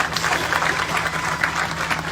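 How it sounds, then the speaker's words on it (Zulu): Mourners at a funeral break into steady crowd applause for a man being honoured, with many hands clapping at a constant, moderately loud level. "Ngiyakusho lokho ngicela simshalele ihlombe ubaba uNala."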